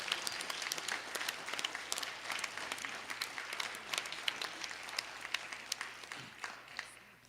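An audience at a pageant claps in thanks for the mothers present, a steady spread of individual hand claps filling the room at moderate loudness and tapering slightly toward the end, with no talk over it.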